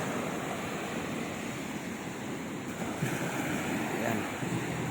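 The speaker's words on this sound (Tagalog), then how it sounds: "Ya, sounds hampas ng alon." Ocean waves crash on a black sand beach at Sta Cruz, Davao del Sur, at night, making a steady loud wash of surf mixed with wind rumble and no pauses.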